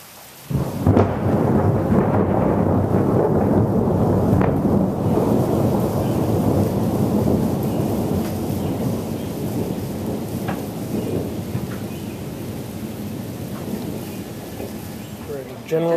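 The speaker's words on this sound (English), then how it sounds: "And some really cool thunder." Thunder rolls and rumbles through a steady rain during a small thunderstorm at General Butler State Park, a loud, continuous low roar that persists for the whole stretch with no clear pauses.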